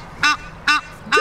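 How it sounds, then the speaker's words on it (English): Three loud, separate duck quacks close by on a river, evenly spaced and with no talking between them. "Look at the ducks."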